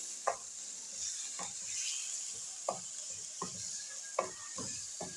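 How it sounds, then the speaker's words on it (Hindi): Beef liver and garlic fry in a pan with a steady sizzle. Periodic scraping stir strokes from a spoon cut through the frying, and no one speaks. "पहले हम कलेजी की बुनाई करेंगे ताकि कलेजी की भी स्मेल ख़त्म हो सके और लहसुन की भी।"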